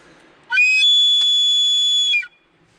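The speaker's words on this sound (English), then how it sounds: "hard flow of air gets it like a whistle sound." A single shrill, steady whistle from a handmade whistle blown hard, lasting nearly two seconds and stopping abruptly, with quiet background before and after.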